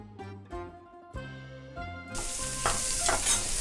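Onion, carrot and sweet pepper fry for borscht, a soft sizzle with a few stirring scrapes early on that swells into a louder, fuller crackle of frying over the last half, with no talking.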